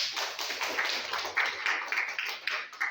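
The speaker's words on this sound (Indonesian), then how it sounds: "Oke, tepuk tangan dong." A classroom audience claps after a group presentation: a dense, steady patter of many hands, moderately quiet and fairly close, lasting throughout with no talk over it.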